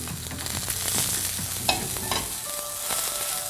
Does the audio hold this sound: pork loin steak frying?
yes